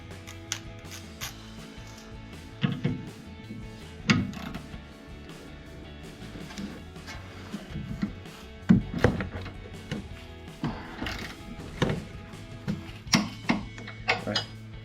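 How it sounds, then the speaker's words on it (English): A torque wrench tightens a sway bar link on a Jeep Gladiator JT, giving irregular ratcheting clicks and metallic ticks at close range, fairly quiet with small bumps and handling noises between strokes. "Get on the torque wrench."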